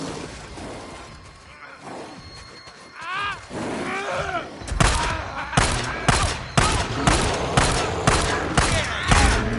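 Video game gunfire from Days Gone, a steady run of loud, close rapid shots with roaring creature cries and shouts mixed in just before the volley.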